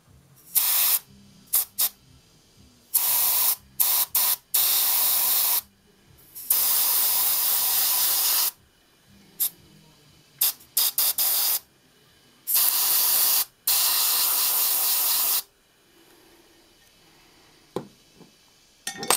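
Rio professional airbrush spraying nail art paint through a stencil on a fingernail, repeated short and longer bursts of sharp, close hissing spray separated by silent gaps, with faint clicks of the trigger.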